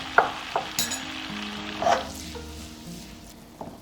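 Garlic and onions frying in butter for butter prawns with lime, a soft steady sizzle with a few brief stirring clicks and scrapes, close by and fairly quiet, with no one talking.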